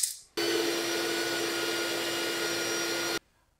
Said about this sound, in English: All right, I got my shop vac here.